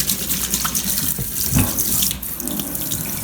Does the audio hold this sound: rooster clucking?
no